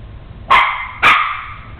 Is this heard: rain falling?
no